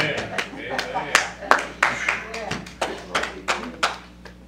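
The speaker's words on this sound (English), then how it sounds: "Yeah, give him a hand, clap" A church congregation claps along in a steady rhythm of sharp, fairly loud hand claps, about two per second, with voices talking over them.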